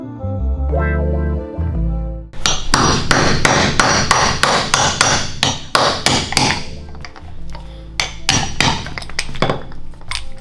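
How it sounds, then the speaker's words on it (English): Rapid, loud metallic hammer blows ring out in quick bursts after a low hum, hammering a firearm suppressor apart with sharp clanging impacts on hard metal. "Let me get a bigger ass hammer."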